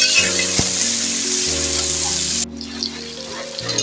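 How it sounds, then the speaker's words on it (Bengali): Banana slices seasoned with salt fry in shallow oil, a steady close hiss of sizzling with a few soft stirring clicks, the sizzle dropping abruptly near the end. "কলা আমি এইভাবে নাড়াচাড়া করে দু থেকে তিন মিনিট ভেজে নেব"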